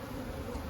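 Honey bees crawl over a hive frame, giving a faint, steady, close buzzing hum.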